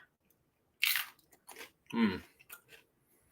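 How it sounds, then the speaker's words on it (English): A close, crisp crunch comes from biting into a yellow Biquinho pepper, followed by a few softer chewing crunches in near silence. "That amazing crunch. I can never get over that crunch."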